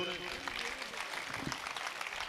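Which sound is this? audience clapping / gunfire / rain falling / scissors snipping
audience clapping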